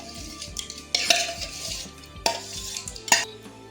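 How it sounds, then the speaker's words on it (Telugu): Yogurt spooned into a mixing bowl for a vegetable marinade and stirred, with close clinks of a spoon against the bowl and soft scraping, a few sharper knocks standing out. "దీంట్లోకి పెరుగు వేసేస్తున్నాను"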